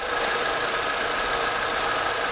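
A freshly rebuilt car engine idles unevenly, straining to hold a steady speed, with a continuous loud mechanical drone and knocking texture close by.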